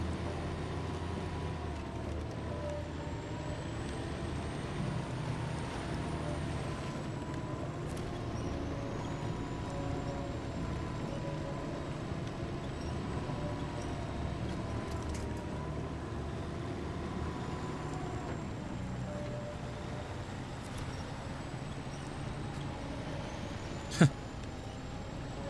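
Truck engine from the SnowRunner off-road driving game, a steady low rumble that runs unbroken and unchanging for the whole stretch, with one sharp click near the end and no talking.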